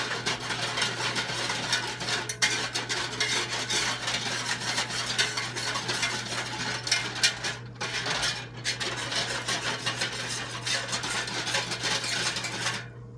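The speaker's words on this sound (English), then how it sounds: "I'm just going to stir and stir and stir" Chicken gravy with stock is stirred steadily in a pan, a continuous rasping scrape of the utensil against the pan bottom over a low constant hum, with no talk.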